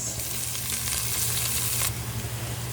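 Garlic and onion sizzle loudly in very hot oil in a pan, with a steady crackling fry throughout and brief stirring sounds, no voices over it.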